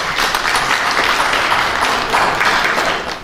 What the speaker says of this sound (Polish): Brawa dla dziewczyn!